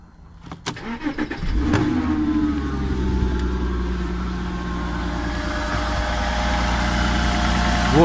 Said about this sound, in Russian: Вот я завел